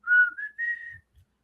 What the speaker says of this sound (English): they had that hit with the whistling